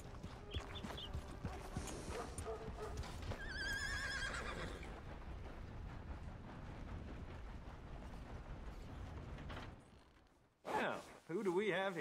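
A horse whinnies in the Red Dead Redemption 2 video game, a loud neigh at the start over a busy game soundscape with background rumble, followed by quieter sounds and someone talking near the end.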